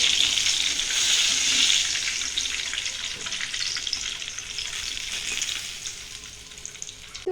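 Mirchi pakoda, battered chili fritters, frying in hot oil in a pan: a steady bright crackling sizzle, loud and close at first, gradually easing toward the end, with no talking.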